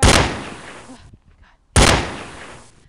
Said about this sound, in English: They're shooting me